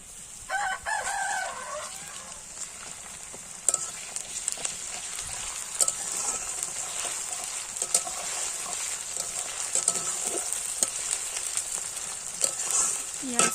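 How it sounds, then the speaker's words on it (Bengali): Garlic paste sizzles and fries in a pan for mutton curry, a steady close crackling hiss with occasional louder spits and stirring scrapes, and a brief voice early on. "রসুন আমি ভালো করে লাল লাল করে ভেজে নেব"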